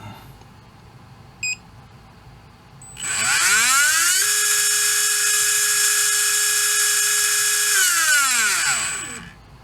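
A HobbyWing V10 G4R 17.5T brushless motor spins up to a loud, steady high-pitched whine with layered harmonic tones, holds for several seconds, then winds down, preceded by a brief faint beep.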